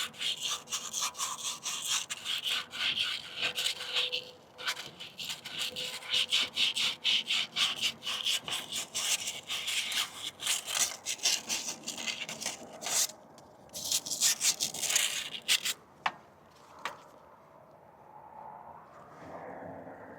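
Rust and abrasion are scrubbed off the shaft of a vertical Ryobi pressure washer pump, producing rapid, rhythmic rasping back-and-forth strokes close up, with brief pauses and a few light taps as it tails off.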